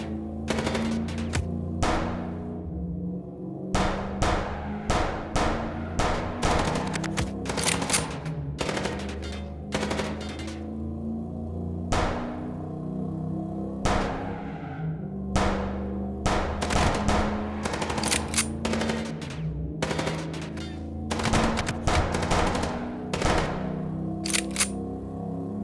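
Rapid gunfire rings out during a car chase in the Chicken Police game, sharp bursts of shots cracking repeatedly over a steady engine-like drone, close and loud, in irregular clusters throughout with no voices.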